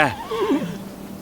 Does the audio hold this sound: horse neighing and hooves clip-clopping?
yes